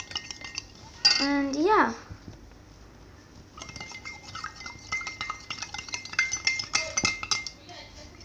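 A utensil mixes borax slime mixture in a container, making close clinks and scraping taps in uneven bursts. A brief rising and falling whistle-like tone comes early, and a voice speaks briefly.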